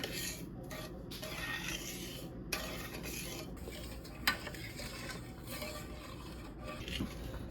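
A spoon stirs a cup of sugar and two sticks of butter melting together in a pot for German chocolate cake, a quiet, steady scraping and swishing with brief gaps between strokes.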